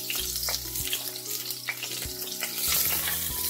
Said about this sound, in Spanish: Las verduritas cortaditas, ya vamos a ponerlas para que se conforme el aceite ya.